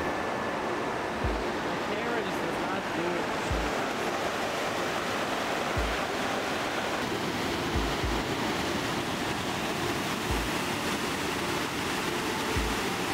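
River flowing through a forested canyon gorge in Slovenia in autumn, a steady, broadband rushing of water filling the whole stretch with no pause.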